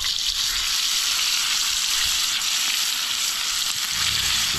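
Bicuda fish frying in a pan on a riverside fishing trip on the Juruena River, a steady loud hissing sizzle of hot oil running unbroken throughout, with no voices.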